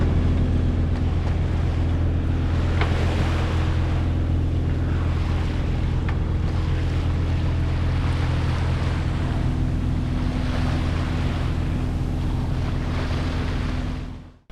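Steady rush of wind and water along a hull as a sailboat glides with sails up and engine off at sea, a constant low rumble beneath, no voices.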